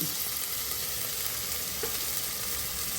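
Onions frying in oil and ghee for kabsa give off a soft, continuous sizzle while being mixed in the pan, fairly quiet and unbroken.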